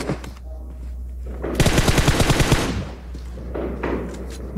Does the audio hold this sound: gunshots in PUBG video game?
yes